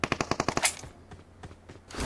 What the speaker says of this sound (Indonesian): Situ kayaknya tadi suara tembakan.